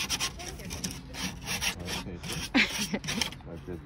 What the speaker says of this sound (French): Ça ponce par ici.